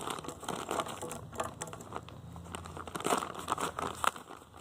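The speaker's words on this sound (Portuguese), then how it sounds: "Você sai cortando tudo, arame, vaso, né, tudo que você vê que abrir com a tesoura" Scissors cut open plastic packaging while someone prepares homemade organic fertilizer, giving close, busy crinkling and tearing with uneven crackly bursts throughout.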